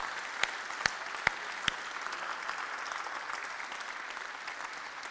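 A church congregation applauds, sustained clapping at a moderate distance, with a few sharp, louder claps standing out in the first two seconds.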